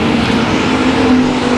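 Factory stock race cars racing at Boothill Speedway make a dense, continuous engine roar, loud and steady, with a sustained droning tone throughout.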